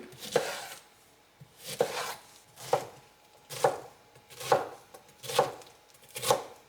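A knife cuts fruit into small cubes on a board for homemade vegan ice cream, with about eight steady, distinct chops spaced roughly a second apart, close and clear with no talk.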